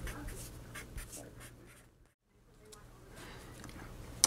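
Chalk or pen scratches out writing on a board during a lecture on fractals and scaling, a run of short strokes broken by a brief pause, fairly quiet and close.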